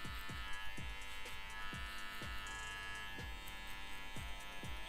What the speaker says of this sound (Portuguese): vamos tirar agora essa parte de baixo que é a maquininha de acabamento